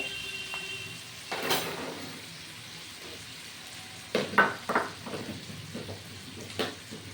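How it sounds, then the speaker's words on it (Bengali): Tomatoes with peas fry in a pan for a Bengali cabbage ghonto, with a soft steady sizzle underneath and a few sharper scraping and stirring clicks toward the end. "এটা ভাজা হচ্ছে টমেটোর সঙ্গে"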